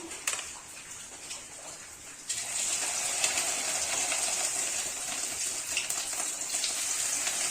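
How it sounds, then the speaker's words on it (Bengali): Fish egg pakoras dropped into hot oil for frying, the sound rising into a loud, continuous bubbling sizzle after a quieter opening with a few splashes. "তেলটা গরম হয়ে গেছে এখন আমি এই যে মাছের ডিমে বড়াগুলো ভেজে নেবো"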